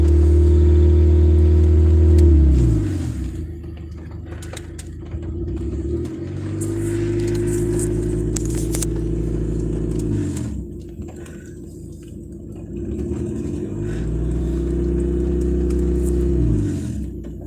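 A car engine revs hard to build charge before starting, three long surging rises and falls of a deep rumbling roar, loud and close with no voices.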